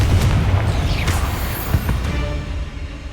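A Confringo blasting spell explosion in the Hogwarts Legacy video game: a loud, close boom with a brief whooshing burst, followed by another sharper blast and a fading rumble.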